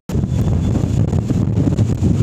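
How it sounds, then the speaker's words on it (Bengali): Strong cyclone wind from Cyclone Remal roars continuously and loudly into the microphone, buffeting it with low rumbling gusts throughout, with no voices. "হাওয়া বেশ জোর গতিতে দিচ্ছে, দেখতেই পাচ্ছেন।"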